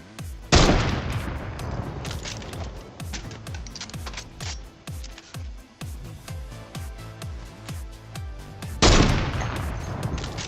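Sniper rifle shots in a Fortnite-style battle royale video game, two loud booming reports several seconds apart framing a run of quieter rhythmic thuds and clicks, with no talk.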